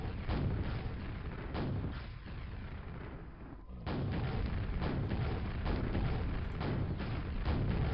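Rocket launcher and nail gun fire against a Shambler in the classic shooter Quake: a dense, continuous run of booming blasts and rapid shots at steady loud volume, with a brief lull midway.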